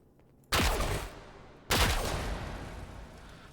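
Two loud gunshots in Fallout 4, the first at half a second and the second a little over a second later, each a sharp crack trailing into a long reverberant decay.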